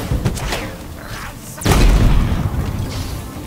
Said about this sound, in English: I am shooting and moving